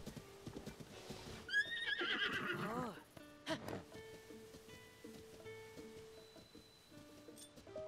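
A horse in The Legend of Zelda: Tears of the Kingdom gives a loud, shrill neigh, followed by clip-clop hooves and snorts in a quiet outdoor game scene.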